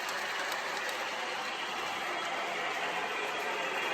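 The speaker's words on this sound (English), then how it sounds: "look at the side of this train. And it's still coming too." A twenty-year-old model train rumbles steadily along its track, a continuous mechanical whirr and hum held at an even, moderate level with no talking.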